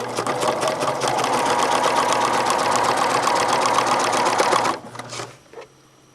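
Sewing machine stitching a quilt binding, a fast even needle chatter running close and loud for several seconds, then stopping abruptly with a few small clicks after.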